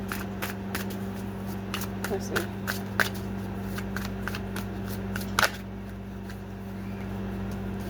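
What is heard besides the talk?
shuffling tarot cards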